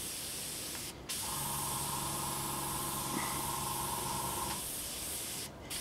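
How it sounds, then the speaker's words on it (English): An Iwata Eclipse HP CS airbrush sprays thin paint lines, a steady close hiss of air with a brief pause near the start and another gap near the end, heard alone with no talking. "we'll see some of the thinner lines that we can spray out of this airbrush"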